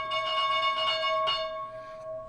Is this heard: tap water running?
no